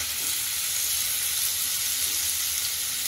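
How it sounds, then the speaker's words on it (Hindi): Jackfruit pieces fry in a pan, giving a constant close, dense sizzling hiss with no break and no voices. "देखिए मैं कटहल का फ्राई कर रही हूँ"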